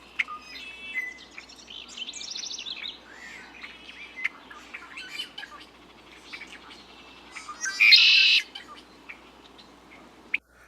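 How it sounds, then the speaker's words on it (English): Bird song outdoors: a red-winged blackbird's gurgling trill with scattered sharp chirps, one loud burst near the end, over a soft background hum. "So now I'm going to play you the red-winged blackbird."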